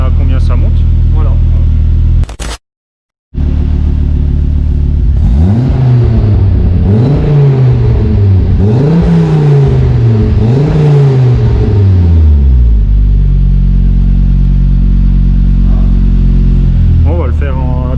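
A car engine sits at a loud, close idle, then takes a series of sharp throttle blips to around 3500 rpm, each rev rising and falling in a rough rhythm before dropping back to idle.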